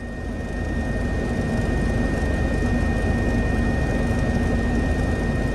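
Loud, steady cabin noise in the back of a helicopter on a medical flight: a constant broadband roar with a steady high whine, unbroken throughout and with no voices.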